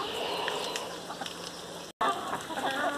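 Chickens clucking and murmuring close by while being fed hydroponic corn in a backyard coop, a steady soft chorus of clucks with a brief cut partway.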